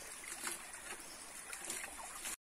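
Clean water splashing and trickling steadily while honey-gathering tools are washed, a continuous close, fairly quiet sloshing that stops abruptly.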